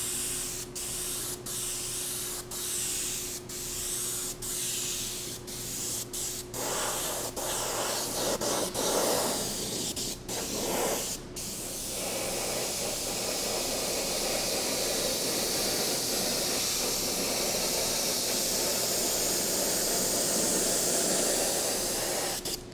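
Candy and silver shine paint sprayed from a squirt bottle onto red and black doors, a steady close hiss that starts as short repeated bursts, then runs as one long continuous spray, with an air fan blowing behind.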